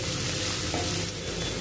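Onions fry in a pan for bhindi masala, a loud, steady, close sizzle with faint stirring and no voices.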